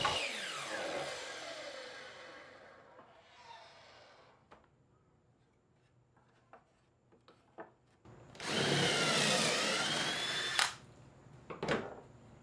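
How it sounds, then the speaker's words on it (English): A drill press fitted with a 4-inch hole saw cuts through a wooden board cutoff, a loud, close grinding whine for about two seconds after a winding-down motor and scattered clicks and knocks. "Over at the drill press, I've got one of the cutoffs from the box sides, as well as a 4-inch hole saw installed"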